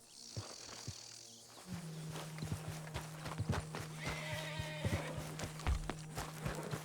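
Hooves clop in scattered steps and a horse whinnies briefly in Red Dead Redemption 2, set against a steady cricket-like insect drone in the outdoor night ambience, all fairly quiet and close.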